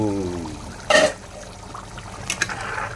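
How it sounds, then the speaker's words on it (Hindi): Water splashed into a hot pan of cooking mutton liver and lungs with spiced masala, a brief loud hissing pour followed by softer trickles and bubbling near the end, with no speech over it. "पानी डाली इसमें, वही पानी"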